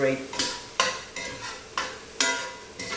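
Beef searing in a pan for carne guisada sizzles under a regular stirring rhythm, with about seven evenly spaced scraping strokes of the utensil across the pan, close and clear, with nobody talking.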